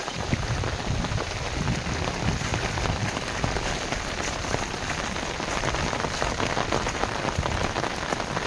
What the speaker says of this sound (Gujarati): હજી વરસાદ વધતો જાય છે.